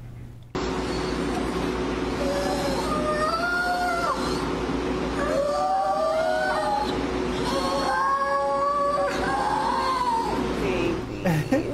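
Rescued seals in a Maine rehabilitation facility calling out for food, repeated wavering moaning cries rising and falling over a steady mechanical hum, fairly close and loud, with several calls overlapping.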